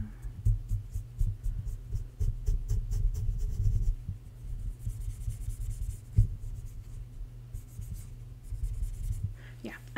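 Soft brush strokes of an RT Expert Face Brush applying makeup, a steady close-up swishing and rubbing texture running throughout, with faint whispery movement and a few sharper taps near the end.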